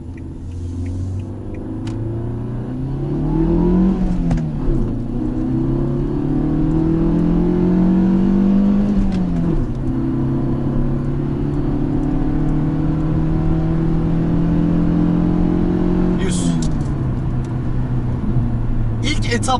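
Fiat Egea Cross 1.4 engine revving inside the car, a steady droning rumble that climbs and drops through several gear changes across the whole stretch, with faint talk underneath.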